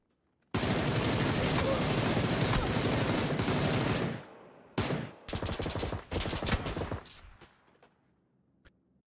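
Loud, rapid automatic gunfire in the battle royale game PUBG rattles in a sustained burst for several seconds, then breaks into shorter volleys and scattered shots before falling silent.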